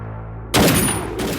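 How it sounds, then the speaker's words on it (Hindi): Gunshots ring out in a police lockup scene from a Hindi thriller film, a sudden loud close blast followed by a short echoing burst after a brief quiet lead-in. "सर ने गोली चला दी।"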